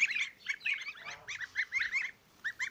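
Young geese peep and honk in quick bursts, several birds calling over each other at close range, with a brief pause before more calls.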